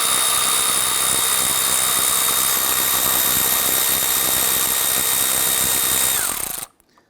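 Power tool spinning off a 10mm bolt on the AC line of a 2008-2017 Buick Enclave 3.6L V6, a loud steady high whine held for about six seconds before it cuts off abruptly.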